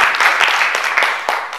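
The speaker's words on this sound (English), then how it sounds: "So we should actually clap for her that she said I will come." An audience claps briefly after a school speech at a Day of the African Child event, a short burst of scattered hand claps, close and fairly loud.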